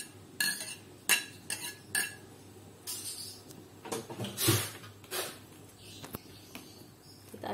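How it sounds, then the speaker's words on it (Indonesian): A utensil stirs a cooking pot of chicken asem-asem with starfruit and spices, giving a series of short metallic clinks and scrapes at irregular intervals, close and fairly loud, with no talk. "Kita aduk sebentar."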